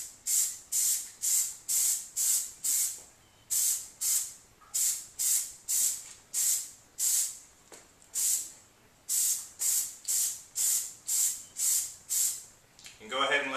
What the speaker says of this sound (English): take your Plasti Dip and put on a light coat of paint